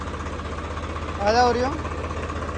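A tractor engine idles with a low, steady rhythmic thrum throughout, while someone speaks briefly over it in the middle.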